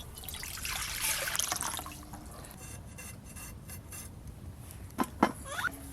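Water pours into a pot to be heated for making dough for chhana luchi, a steady splashing stream for about two seconds followed by softer trickles and a couple of faint clinks.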